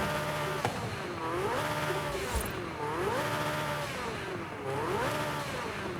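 A 2018 ATS GT car in the Forza Horizon 5 video game accelerates hard, its engine repeatedly climbing in pitch and dropping as it shifts through the gears, loud and continuous, with no voices.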